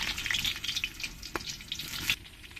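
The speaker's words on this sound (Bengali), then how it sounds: "তেলটা গরম হয়ে গেছে এবার আলুগুলো ভালো করে লাল লাল করে ভেজে নিতে হবে" Potatoes fry in hot oil in a wok, a soft, continuous crackling sizzle heard up close with a brief sharper pop partway through.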